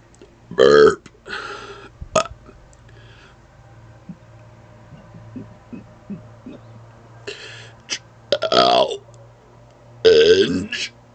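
Repeated loud burps close to the mic come in bursts: a pair early, one short belch, then a quieter stretch of faint breathing before three more forceful burps near the end.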